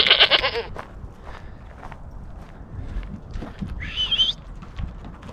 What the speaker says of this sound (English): a very important part of working in the garage is to first feed the goats, as they will yell at us if we don't feed them